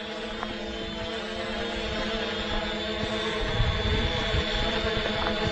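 A FIMI X8 SE drone flies and tracks a runner outdoors, its steady whirring rotor hum constant and fairly loud throughout, with faint wind and rustle beneath.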